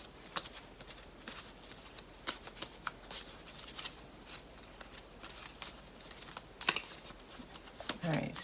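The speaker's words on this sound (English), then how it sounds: "let me go ahead and just pull a couple of cards here" Tarot cards shuffled and drawn from a deck, giving soft papery flicks and riffles with scattered sharper snaps, close and quiet, with no talking.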